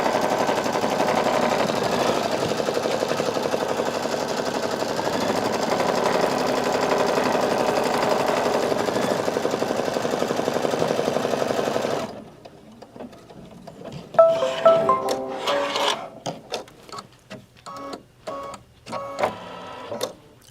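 An embroidery sewing machine stitches decorative stitches in a loud, rapid, continuous mechanical chatter for about twelve seconds, then stops, followed by scattered clicks and light handling sounds.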